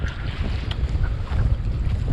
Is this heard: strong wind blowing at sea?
yes